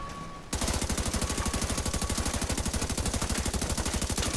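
Automatic gunfire in the shooter game Razorback cuts in abruptly after a brief lull and rattles on as a loud, rapid, evenly spaced stream of shots.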